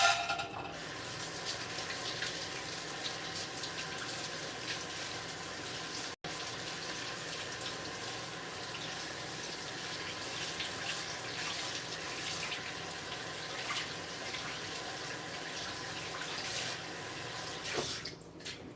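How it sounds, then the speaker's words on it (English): Steady stream of tap water running into a kitchen sink while hands are rinsed during home cooking, a constant close wash with no talking, cutting off abruptly near the end. "Rinse off my hands."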